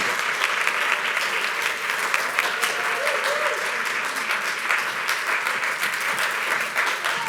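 An audience at a health care talk applauds, a dense, steady wash of many hands clapping close by that holds for the whole stretch.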